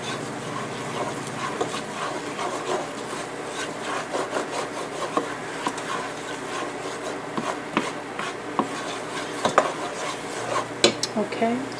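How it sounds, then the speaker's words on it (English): Flour cooking in butter in a pan for a potato gratin roux, stirred steadily with repeated scraping and clinking against the pan under a soft continuous sizzle, close and moderately loud. "Now we're going to let this cook in the butter for a few minutes just to get that flour taste out."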